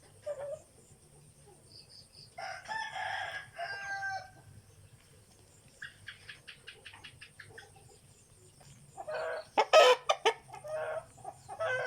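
Chickens clucking in short bursts and squawks, with one sharp loud cry near the end, close by over a quiet background.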